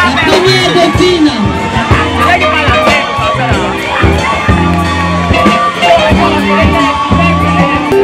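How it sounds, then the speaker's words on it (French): At a beauty pageant crowning the first runner-up at a festival, a loud close audience cheers and shouts continuously, with whoops and overlapping voices over a busy babble. "Est-ce qu'on applaudit pour Mademoiselle Mbengue Zorbo?"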